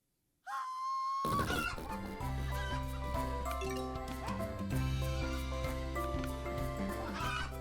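Chicken clucking in the video game World's Worst Handyman, set among loud continuous game music with steady tones and bass, the fowl sounds mixed into a dense, busy soundtrack throughout.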